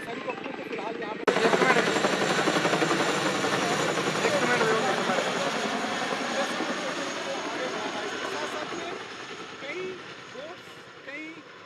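A heavy-lift helicopter at a crash search site near Pathankot roars in loudly with a steady rotor and turbine drone that slowly fades, while someone speaks over it throughout.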